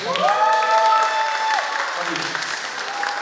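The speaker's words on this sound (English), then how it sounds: "One more round of applause for these three gentlemen, guys" An audience at a media gathering in Brampton applauds steadily, a continuous wash of clapping with a voice or sung tones sounding over the top.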